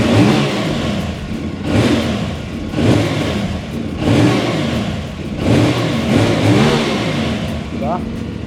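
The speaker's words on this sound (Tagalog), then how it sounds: "Try din natin siyang sound check, stock exhaust." A CF Moto big bike on its stock exhaust revs repeatedly close by, several throttle blips rising and falling in a rhythmic series over a steady idle.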